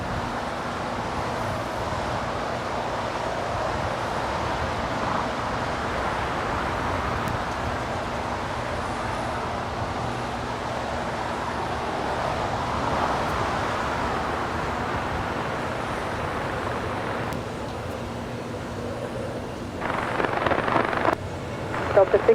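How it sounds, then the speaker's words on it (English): A United Airlines Boeing 787-9 Dreamliner departing LAX on runway 25 right, a steady broad jet roar heard from a distance, swelling slightly near the end with some nearby rustling. "Our next departure here on 25 right, United Airlines flight 2039 heading to Chicago"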